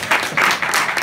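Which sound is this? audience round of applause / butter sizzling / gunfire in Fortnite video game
audience round of applause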